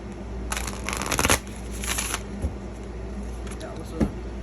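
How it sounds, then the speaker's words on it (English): Tarot cards shuffled by hand in a series of riffling, flapping bursts, with a faint soft tap near the end, heard up close in a quiet room. "Let me shuffle it properly first."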